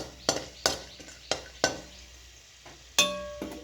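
A little oil with broken bits of asafoetida crackles in a small pan, a faint frying hiss broken by several sharp clinks and scrapes of a utensil against metal at irregular intervals.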